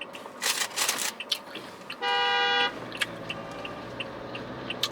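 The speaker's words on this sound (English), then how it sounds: "Don't be honking at me." A car horn honks once in traffic, a steady, loud blare lasting under a second that stands out clearly above the street rumble and faint background noise.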